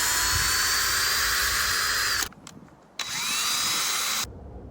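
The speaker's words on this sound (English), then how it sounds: "I got out my extended drill bit and marked off with painter's tape how deep into the stem I needed to drill." An extended drill bit bores into an oak pipe stem carved from a healed branch, a loud high whine for about two seconds, a short pause, then a second burst that stops cleanly.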